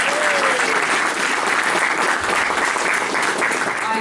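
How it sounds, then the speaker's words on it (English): A loud, sustained round of applause from a crowd at an honor society induction ceremony, many hands clapping in a thick, unbroken roar, with brief faint vocal cheers rising over it. "Now, let's give a round of applause for our new inducted members."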